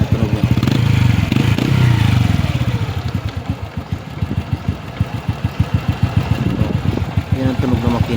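A nearby motorcycle idles with a loud, rhythmic chugging pulse and a mechanical clatter, running steadily while someone talks over it.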